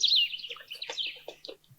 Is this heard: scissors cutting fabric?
no